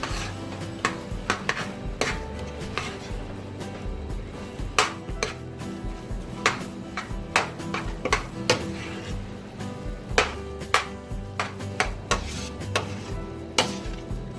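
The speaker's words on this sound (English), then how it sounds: "We'll stir that up." Cornbread dressing with sage and sriracha stirred in a pan, a spoon scraping and knocking against the pan in a steady, uneven rhythm over a soft sizzle, close and fairly loud with no voices.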